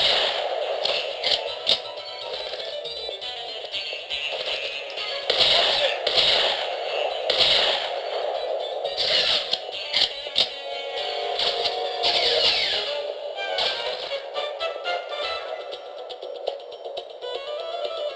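Gunfire in the shooter game Contract J.A.C.K. crackles in repeated bursts and scattered shots over an ongoing game soundscape, fairly loud and irregular throughout.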